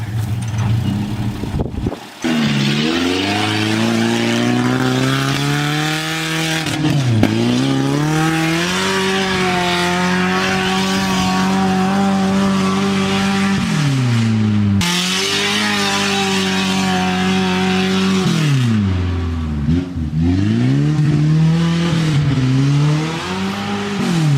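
A Holden Rodeo ute with a limited-slip differential doing skids, its engine revving hard in long sustained bursts with a high tire squeal layered on top, loud and close, with brief drops between runs.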